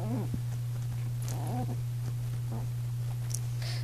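A chihuahua puppy in a temper tantrum lets out short whiny yelps and squeals over a constant low electrical hum, with a few faint voices nearby.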